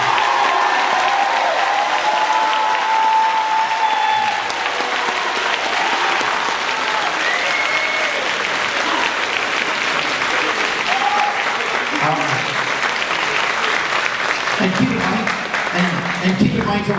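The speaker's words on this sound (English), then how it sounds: "Let's give him a round of applause." An audience claps steadily at a high school wind symphony's holiday concert, a dense, sustained round of applause with a voice talking over it near the end.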